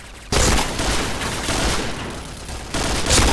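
AUG rifle fire in the Point Blank shooter game: a dense, loud burst of rapid shots that runs almost without a break, with a fresh volley near the end.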